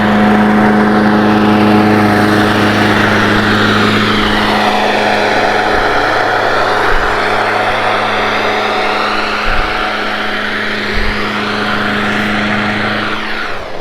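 Steady engine drone of a lawn mower working along a street in the Mesa neighborhood of Palm Springs, California, a continuous loud hum with a firm low tone holding throughout, no voices.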